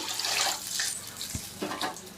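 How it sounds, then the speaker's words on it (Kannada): Water splashes and trickles into a pot of garlic sambar in short uneven pours, fairly quiet, with a faint clink at the end. "ಸಾಂಬಾರು ನಮಗೆ ಎಷ್ಟು ಬೇಕಷ್ಟಿಗೆ ನೀರನ್ನ ಹಾಕ್ಕೊಂಡು ಆ್ಯಡ್ ಮಾಡ್ಕೊಳ್ಳಿ"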